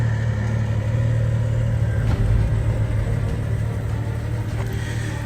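BMW 335 coupe engine warming up at idle, a steady low rumble heard close and alone with no talk.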